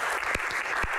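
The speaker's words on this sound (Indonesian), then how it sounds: "tepuk tangan luar biasa untuk Ibu Halida" An audience at an Indonesian Q&A forum gives warm applause, a thick continuous patter of clapping with a few sharper individual claps standing out, steady and fairly loud.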